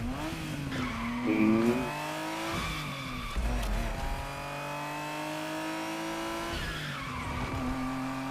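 Ferrari Testarossa in The Crew Motorfest, its engine droning and shifting pitch as tires squeal and skid through turns, loud and continuous with no one talking.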